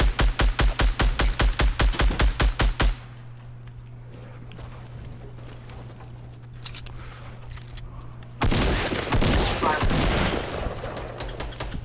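Fortnite gunfire opens with a rapid, loud automatic burst of about a dozen shots. A quieter stretch of scuffling game noise follows, then a second dense volley of shots comes in, with some speech mixed in.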